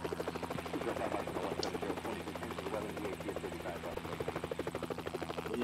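A game helicopter in a search-and-rescue flight simulator drones steadily with a continuous rotor buzz and hum throughout, holding an even level, while a person talks over it.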